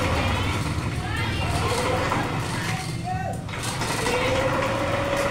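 A Yamaha NMAX scooter with a cam chain fault runs just after being started, its engine giving a steady, busy idle close by while people talk over it.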